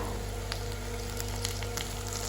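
Prawns fry in a pan with curry leaves, giving a steady, close sizzle with scattered small crackles over a low constant hum, no speech.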